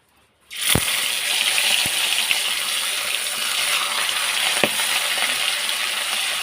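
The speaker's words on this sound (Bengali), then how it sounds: "তেলটা গরম হয়ে গেছে, এবারে আমি মাছগুলো ছেড়ে দেবো একটা একটা করে" Small chara pona fish, rubbed with salt, lemon juice and turmeric, drop into hot oil with a sudden burst of loud sizzling, then a dense, steady spitting hiss with a couple of sharp pops from the pan.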